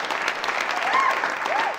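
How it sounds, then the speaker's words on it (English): A crowd claps and cheers at the Troubadour comedy club, steady, full applause with a couple of rising whistles cutting through near the end. "How about a round of applause"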